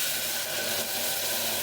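Masala paste for a black chana gravy curry hitting hot oil gives a steady, bright hissing sizzle that runs unbroken from start to finish, close and alone.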